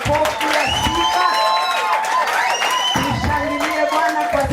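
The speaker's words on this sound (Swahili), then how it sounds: "Tushangilie Bwana na makofi ya sifa." A church congregation claps in praise at a dinner service, the sustained applause mixing with loud voices and sung or shouted praise throughout.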